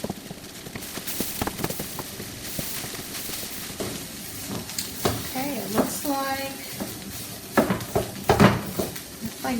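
A spatula scrapes and knocks against a pan while fried rice is stirred and its clumps are broken up, with irregular clatters and faint sizzle as someone talks intermittently over it.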